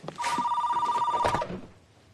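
A telephone rings in one sustained electronic trill lasting just over a second, near and fairly loud, then fades into room tone.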